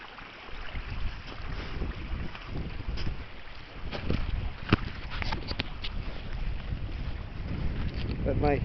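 Cold wind gusts steadily outdoors, buffeting the microphone with a continuous low rumble and roar, and brief rustles and knocks poke through near the end.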